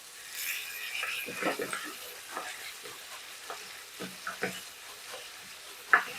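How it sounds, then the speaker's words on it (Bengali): Masala paste of turmeric, ginger and green chilli paste with a splash of water frying and being stirred in a pan for a rohu-style mrigal fish curry, with steady sizzling and repeated spatula scrapes, close and moderately loud. "এরপরে মশলাটাকে ভালো করে কষাতে হবে"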